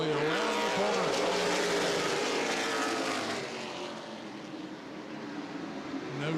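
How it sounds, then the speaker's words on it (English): Late model sportsman race cars roar through turns three and four at Anderson Speedway, their engines loud and blended as the pack passes nose to tail, then fading slightly toward the back straightaway. "Racing into 3 and 4 and gingerly around the corner."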